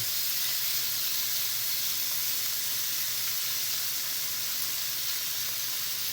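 Shrimp frying in a single layer in a pan give off a steady, loud, close sizzling hiss that holds unbroken throughout.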